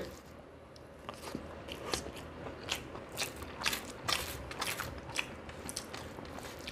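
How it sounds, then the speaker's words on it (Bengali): Close, crunchy bites and chewing of pumpkin chorchori, cooked dry and oily with lentil dumplings (bori) and chilli, eaten alongside rice, with repeated wet crunches and smacks and no speech. "কুমড়ো চচ্চড়িটা খাওয়া শুরু করি।"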